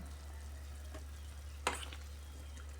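String beans simmer in a pot for pork sinigang over a steady low hum, broken by a faint stir near the one-second mark and one sharper scrape of a spoon.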